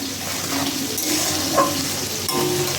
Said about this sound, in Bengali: এখানে মাংসর মশলা কষানো হচ্ছে